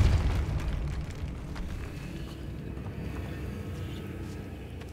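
A Compulso spell cast in the Hogwarts Legacy video game lands as a heavy, booming impact that opens loud, then decays into a sustained low rumble.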